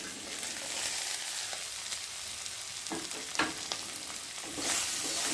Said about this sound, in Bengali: মশলার সাথে চিংড়ি মাছটা একটু ভালো করে কষিয়ে নেব